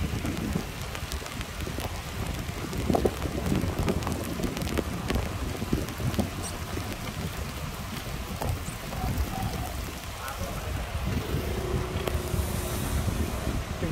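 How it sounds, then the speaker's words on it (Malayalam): Light, cold rain patters steadily on a cycling ride toward Munnar in the hills, with constant wind buffeting the microphone. The hiss is broadband and unbroken for the whole stretch, with no one talking. "മഴ ചെറുതായിട്ടുള്ളൂ, നമുക്ക് വലിയ റിസ്ക് ഇല്ല"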